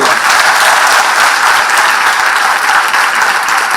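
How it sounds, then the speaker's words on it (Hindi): Loud, dense applause from students at a government scholarship event, sustained and even throughout with no break. "जरा जोरदार ताली दोनों के लिए।"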